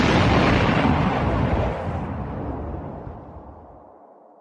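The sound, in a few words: dynamite train explosion sound effect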